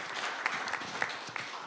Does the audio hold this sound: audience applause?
yes